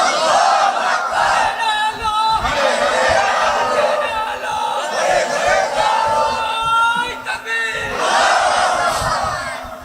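A large crowd at a waz mahfil religious gathering in Bangladesh roars a takbir chant in loud, sustained unison waves, swelling and falling continuously throughout.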